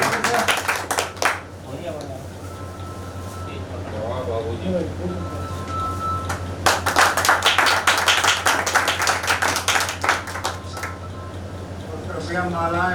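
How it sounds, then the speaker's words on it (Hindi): Clapping from an audience at a Kurmi community gathering in a village comes in scattered bursts, strongest in the middle, with voices talking over it and a steady hum beneath. "एक बार जोरदार ताली"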